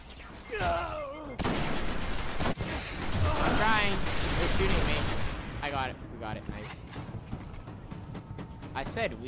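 Sharp sniper rifle cracks in the Destiny video game ring out amid loud mechanical clatter and bursts of fire, several distinct close shots spread across the stretch, with a voice-like sound appearing briefly near the start.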